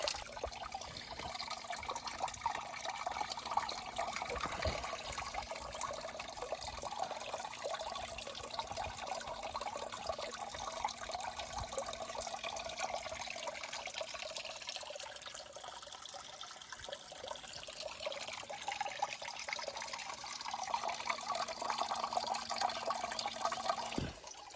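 A tiny pump in a small bonsai pond keeps water trickling and dripping in a steady, close, low-level stream, unbroken throughout with a faint constant hum beneath.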